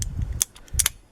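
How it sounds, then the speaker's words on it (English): Small screws being refitted on a 2004 Jaguar X-Type throttle body: a few quiet ratcheting clicks and metallic ticks from a hand tool, close and brief, with no talking. "I replace the screws one by one so it doesn't go out of factory adjustment"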